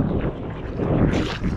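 Wind gusting and rising on a beach in Qatar during early summer, a loud, close rush of wind buffeting the microphone over a short stretch, swelling stronger toward the end.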